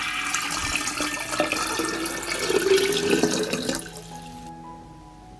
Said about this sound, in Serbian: U bokal ću sipati litar mlake vode.